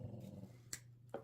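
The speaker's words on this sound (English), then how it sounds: "The dog didn't approve of what the cat was doing" A dog growls quietly and steadily, a low rumbling sound close by, broken by a couple of short sharp clicks or snaps, with no talking.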